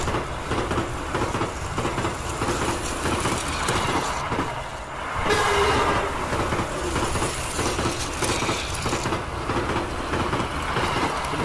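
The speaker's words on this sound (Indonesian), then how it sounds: "Perjalanan kereta api lancar tanpa ada hambatan." A train running on rails, its steady rumble and rhythmic wheel clatter continuing throughout with occasional wheel squeal, fairly loud and close with no voices.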